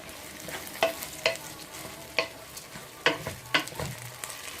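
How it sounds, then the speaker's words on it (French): Rice is being stirred in a frying pan over a moderate flame, with a soft background sizzle broken by about eight distinct scraping and clinking strokes of the utensil against the pan, close and fairly quiet. "J'ai mis du riz et je vais continuer à tourner."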